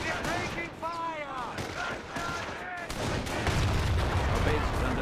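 Sustained gunfire and explosions from a World War II battle in the Company of Heroes video game, a dense crackle of shots under excited voices shouting in the foreground throughout.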